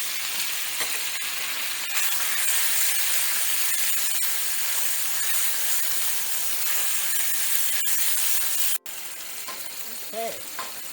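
Steak pieces dropped into a very hot pan with olive oil, sizzling and frying in a loud, steady hiss throughout, with brief stirring clatter.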